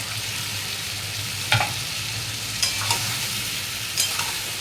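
Bay leaf with ground cumin, chili and coriander sizzles steadily in hot oil for a Bengali cauliflower, potato and katla fish curry, with a few louder stirring scrapes punctuating the constant frying hiss.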